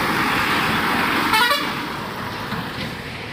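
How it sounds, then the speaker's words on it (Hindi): Tipper trucks rumble toward the loading entrance of an iron mine in Odisha, with a steady engine drone and a short horn blast in the middle before the noise settles back down. "सारा टिपर गाड़ी यहाँ पे लोड करने के लिए अंदर घुसने के लिए तैयार हैं"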